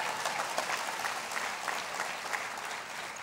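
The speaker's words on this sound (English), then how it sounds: "our partner Paul Pignelli, that one you can applaud." Steady applause from an audience at the MGM Springfield grand opening press conference, continuous and fairly distant, with no voices standing out.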